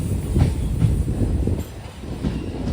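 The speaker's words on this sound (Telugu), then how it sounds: "సిటీఓ నుంచి బయలుదేరే ట్రైన్ మన వెంకటాద్రి ఎక్స్ప్రెస్ ట్రైన్ అది రెడీగా అయితే ఉన్నది" The Venkatadri Express, recently fitted with LHB coaches, rumbles steadily nearby at a station, with rhythmic clacking of wheels over rail joints and a continuous low mechanical drone.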